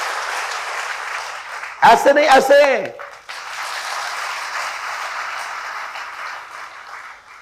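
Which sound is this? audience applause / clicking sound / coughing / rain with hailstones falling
audience applause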